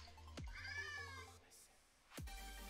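Kitten meowing close to a microphone, one drawn-out, rising-and-falling meow over a low electrical hum, framed by a couple of handling bumps.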